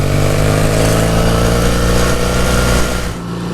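A classic motorcycle engine runs steadily and loudly close by on a run down Loch Ness, its dense harmonic drone holding even for about three seconds before easing off slightly at the end.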